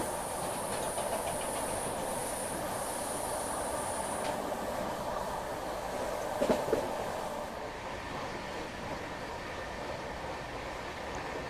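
The Delhi-Mumbai CR Rajdhani Express, pulled by a double locomotive with a banker attached, rumbles past as a steady moderate wash of rail noise, with a brief high whine early on and a few sharp clanks midway.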